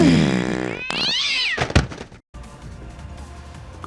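A cat meows loudly and sharply in the Samurai Warriors 4 video game, with a rising yowl followed by a couple of hard thuds, then brief silence and low game ambience.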